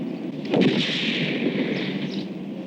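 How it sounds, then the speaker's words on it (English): A single heavy .44 Magnum revolver shot cracks out loud and close, then a long rumbling echo rolls away over the next two seconds. "I'll have a go with my heavy artillery, the 44 Magnum"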